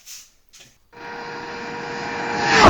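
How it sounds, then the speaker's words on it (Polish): Tuned Barton FR 50 motorcycle engine revving up, a rising buzzing drone that climbs steadily in pitch and loudness over a couple of seconds after a couple of short sputters. "Dać tej młodzieży motor stuningowany. Lepiej chodził."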